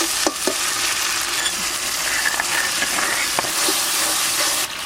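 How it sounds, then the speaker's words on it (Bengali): Ginger, garlic, dried chilli, cumin and coriander sizzle and crackle as they are sautéed in hot oil for a prawn and jackfruit curry. Close, busy frying runs throughout, broken by repeated scrapes and knocks of the spatula. "আদা রসুন শুকনো লঙ্কা আর জিরে ধনে একসঙ্গে সব দিয়ে আমি ভালো করে কষাই নেব"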